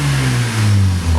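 Mazda RX7 rotary engine with MegaSquirt engine management blipped in one quick rev, its pitch climbing then falling back over about a second. The sound is loud and close.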